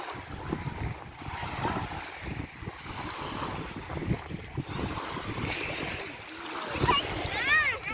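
Children splash and play in warm seawater at Uqair Beach in Saudi Arabia, with broken splashing and wave wash under steady wind noise and people talking nearby.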